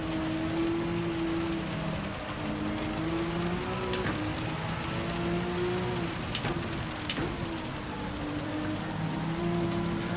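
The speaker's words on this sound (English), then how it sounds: "It's certainly raining a lot heavier than we thought it would." Heavy rain falls during a Gr3 race in Gran Turismo 7, a steady hiss of drops over a droning car engine with a few sharp clicks.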